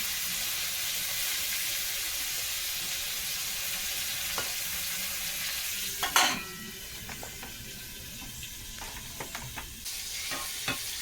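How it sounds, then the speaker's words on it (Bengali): Steady, close frying sizzle of pointed gourd in a pan, with a spatula clink and a few stirring scrapes partway through. "পটলটাকে কিন্তু হালকা লাল লাল করে ভাজা করে নেব"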